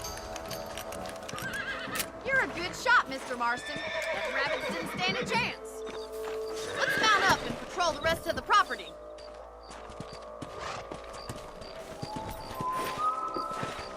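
Horses in Red Dead Redemption whinny loudly several times over a trotting clip-clop of hooves, close by, with voices talking over the animals throughout.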